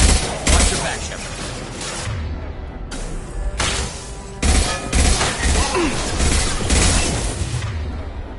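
Heavy gunfire and shotgun blasts crash through a firefight in the Mass Effect 2 video game, loud dense bursts with short pauses and booming impacts, with voices faintly under the shooting.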